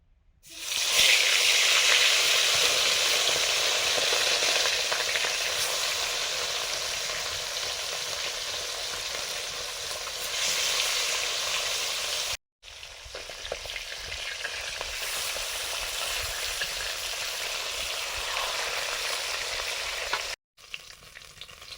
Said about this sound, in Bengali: বাটা মাছগুলো ভাজবো, নুন হলুদ মাখিয়ে দিয়েছি